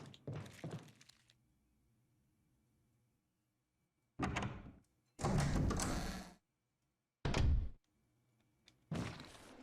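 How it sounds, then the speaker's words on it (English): Several heavy door sounds in the video game Resident Evil Remake, thuds and sliding scrapes, come in separate bursts with quiet gaps between them, close and fairly loud. "I heard a door open."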